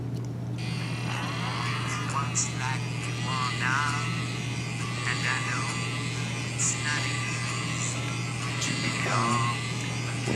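A vinyl record turntable's motor runs with a steady low electric hum that stays constant throughout, with faint voices or sounds drifting over it.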